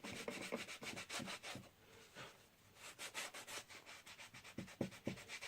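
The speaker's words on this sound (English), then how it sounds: "Sandpaper does get clogged up pretty quickly though." Sandpaper rubbing back and forth along the spine of an old textbook, a steady series of close, rasping strokes with a short pause midway and no talk.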